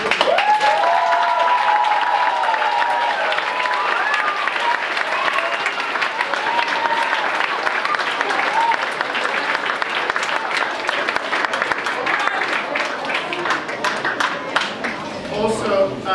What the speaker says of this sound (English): a big round of applause for all the instrumentists who support me